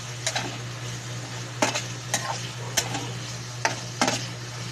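Bitter gourd (ampalaya) stew being stirred and mixed in a pan, with sharp metal utensil clacks and scrapes against the pan at irregular intervals over a low background hum and faint simmer.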